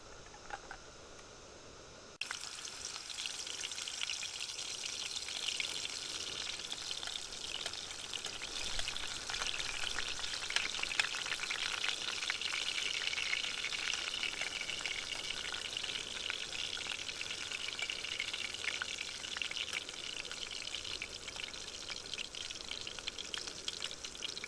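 Foraged mushroom chips frying in a pan, a soft steady hiss and light crackle that starts after a quieter first two seconds and runs on evenly at a moderate distance, no speech.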